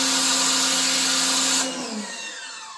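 A Stihl RE 90 pressure washer sprays through its regular nozzle with a loud, steady hiss and motor hum for over a second and a half, then cuts to a quieter, fading spray.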